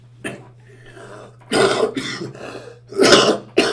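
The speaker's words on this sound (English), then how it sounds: "Excuse my coughing." Several harsh coughs and throat-clearing bursts, loud and close, in irregular clusters with short quiet gaps between them.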